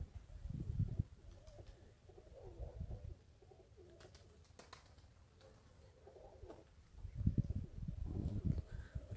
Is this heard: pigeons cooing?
yes